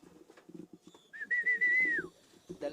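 Pigeons arriving at a loft during racing-pigeon training, with a clear cooing, whistle-like call rising over soft fluttering and scattered background clatter, close and fairly loud.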